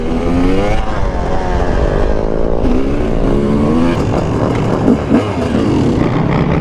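A two-stroke motorcycle engine runs loud and close, with a steady buzzing drone and revs that rise and fall throughout.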